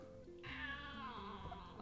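A cat gives one faint, drawn-out meow that rises and then trails off, quiet and close, alone in a calm indoor room.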